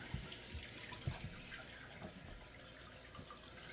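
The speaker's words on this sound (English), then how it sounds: "now water's coming in" Steady rushing and trickling of water as a toilet fill valve refills the tank, faint and continuous, with a few soft knocks and no voices.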